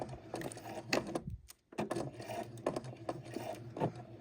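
Sewing machine back stitching at the corner of a fabric bib, short bursts of stitching broken by a brief pause, close and moderately loud with no talking.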